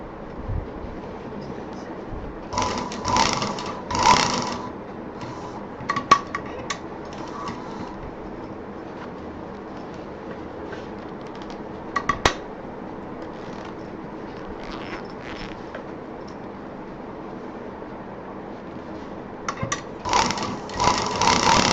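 A sewing machine stitching a homemade college bag runs in several short mechanical bursts with clicks and quiet pauses between, fairly close and moderate in level.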